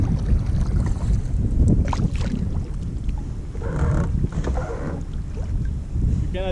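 Wind buffeting a microphone while kayaking in Norway in September, a constant loud low rumble with gusts, mixed with faint water sounds and a few soft bumps, no clear speech.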